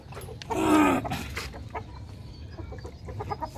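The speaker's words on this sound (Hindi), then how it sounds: "नई मुर्गी है" A newly acquired hen clucks in a short, close burst near the start, followed by quieter fowl sounds over faint background noise at a home poultry setup.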